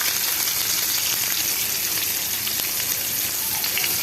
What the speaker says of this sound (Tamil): சும்மா ஒரு 2 வெங்காயம் போட்டுட்டு நல்லா வதக்கணும்